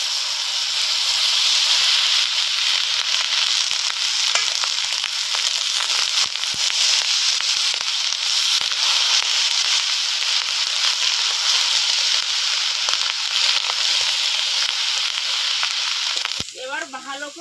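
Cooked rice hits a hot pan for kanika bhog, a sweet Odia temple offering made with sugar, and sizzles in a loud, steady broad hiss for many seconds before the sound shifts near the end.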